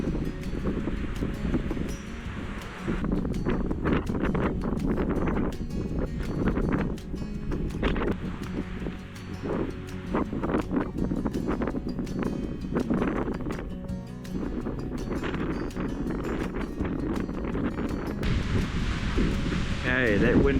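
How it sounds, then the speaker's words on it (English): Exposed, chilly wind buffeting a mountain trail in Tararua Forest Park, a continuous loud roar and rumble against the microphone with rustling gusts, while a person talks over it. "we're going to get out into some exposed wind here"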